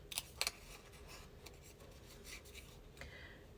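Scissors fussy cutting paper in a quiet room, with a few short crisp snips near the start and then softer scattered rasping cuts over a low steady background hum.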